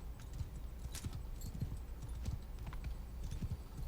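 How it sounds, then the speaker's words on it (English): A sumpter horse plods along in a video game, its hooves clip-clopping in a steady, soft rhythm over a low rumble of background noise. "Oh man, I am on a sumpter horse."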